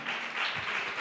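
Congregation clapping hands together during a church service, a steady wash of many overlapping claps at moderate level with no talking.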